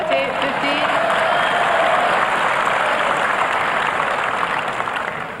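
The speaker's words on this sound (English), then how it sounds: "Slightly ironical applause from the crowd as the linesman called out." Tennis crowd applauding at a 1982 Wimbledon women's singles semi-final, a loud, sustained burst of clapping from a large audience that holds for several seconds before starting to fade.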